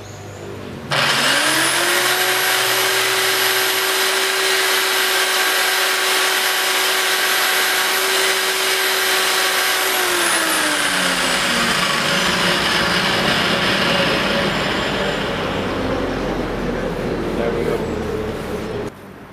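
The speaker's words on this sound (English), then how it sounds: "If you can't get your hands on the rubber cleaning bar that cleans a belt sander, you can use the rubber of an old flip or an old shoe." A belt sander, cleaned by pressing rubber from an old shoe against its belt, runs loud and close with a steady high motor whine, then winds down and fades out after about ten seconds.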